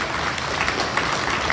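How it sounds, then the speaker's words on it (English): Steady applause from a crowd at a school awards day, a dense continuous wash of clapping for first through third grade students. "Now let's give a hand of applause to every student in first through third grade"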